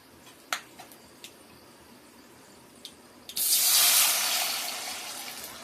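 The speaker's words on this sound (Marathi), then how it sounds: "आता याच्यामध्ये आपण पाणी टाकून घेणार आहोत" Water pours from a tap into a cooking pot for rice in an egg biryani, a loud steady rush starting partway through and tapering slightly, after a few light kitchen clinks against quiet room tone.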